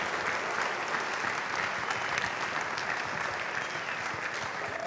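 Steady applause from an audience at a hall of honor induction ceremony for the evening's MC, a full, even round of clapping heard at a moderate distance.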